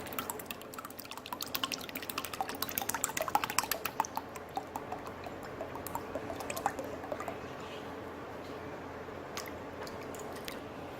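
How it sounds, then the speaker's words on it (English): Evaporated milk poured into a bowl for mac and cheese, a quiet run of wet drips and splashes that cluster early, then thin to sparse drops. "So now I'm pouring the evaporated milk in a bowl."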